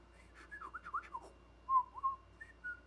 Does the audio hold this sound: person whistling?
yes